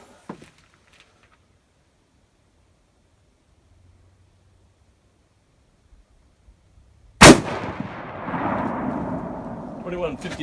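A single loud rifle shot from a .348 Winchester cartridge cracks out after several seconds of near silence, followed by a long rolling echo and rumble that fades slowly.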